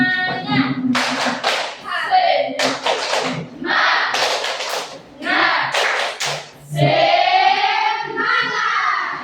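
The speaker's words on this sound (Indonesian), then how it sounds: "Tepuk semangat." A classroom of students performs the 'tepuk semangat' clapping routine, loud patterned bursts of hand claps in quick rhythmic groups, with voices chanting in the pauses.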